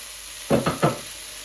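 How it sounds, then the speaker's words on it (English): A short burst of sizzling and scraping as tomato goes into frying okra in a pan, three quick close strokes over a faint background hiss. "we are going to add a bit of tomato just to settle the okra"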